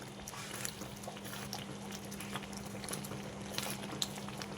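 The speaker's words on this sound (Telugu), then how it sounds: "చక్కగా ఉడుకుతుందండి గ్రేవీ అది చింది పైన పడుతుంది" Mushroom masala curry gravy simmers in a pan, a steady low bubbling with scattered pops and spatters, close and continuous, alone without talk.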